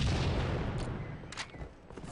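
Grenade blast in a Halo 2v2 match on the Guardian map: a loud low rumbling boom opens, then decays into scattered crackling gunfire and debris with short sharp bursts, no voices.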